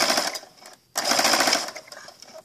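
A sewing machine stitches straight across an apron neck band in two close, steady bursts of rapid needle chatter, split by a brief pause.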